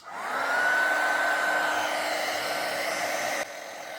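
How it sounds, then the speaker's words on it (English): A heat tool blasts hot air to melt embossing powder on a Christmas card, a loud steady whooshing roar with a thin whine that starts abruptly and runs without a break, alone with no talk. "let's just come in with the heat tool and give that a blast to melt it"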